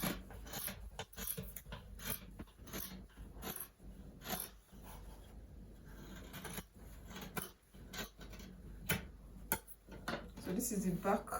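Scissors snip through fabric as a pattern is cut out for a baby girl's kimono dress, a series of close, irregular crisp cuts. A dog and faint speech can be heard in the background.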